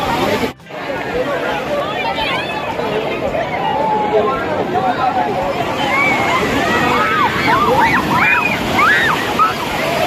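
Sea waves surge at high tide on Digha beach, a steady loud wash of surf with wind noise across the microphone, while people's voices carry faintly in the background throughout.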